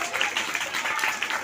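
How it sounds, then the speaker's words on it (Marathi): Children and adults clap at a school event for a young boy's Gandhi speech. The applause is a brief, fairly loud burst of mixed clapping. "टाळ्या वाजवा रे, टाळ्या वाजवा सगळ्यांनी."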